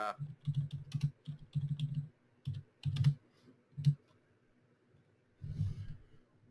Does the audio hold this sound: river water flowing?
no